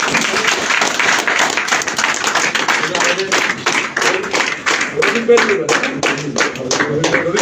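An audience claps at a gathering, with dense, steady applause of many hands going on throughout, loud and fairly close, and some voices mixed in.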